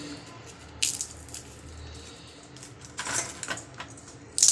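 Crispy fried snack pieces crushed by hand at close range, giving a few sharp crackling crunches in separate bursts with quiet pauses between them.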